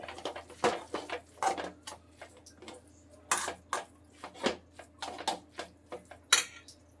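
A spoon mixing garlic Maggi noodles in a pan gives a close run of irregular metallic clinks and taps against the metal, some sharp and loud, with quiet gaps between and no voices.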